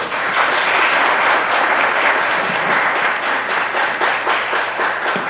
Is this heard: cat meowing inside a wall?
no